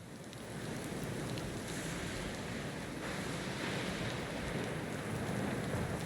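A sea storm in the video game Pillars of Eternity II: Deadfire sends a steady, even roar of heavy rain and crashing waves, with wind under it, continuous and close for several seconds, no voices.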